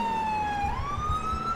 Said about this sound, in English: How do you not see my red and blues and hear my siren?